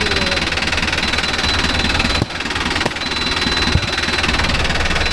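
Mahindra Arjun Novo 605 DI tractor engine runs loud and near, a steady throbbing diesel chug with knocking pulses and a couple of brief dips in level, no talk.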